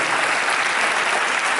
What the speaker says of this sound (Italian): Facciamo un applauso a tutte le ragazze del laboratorio.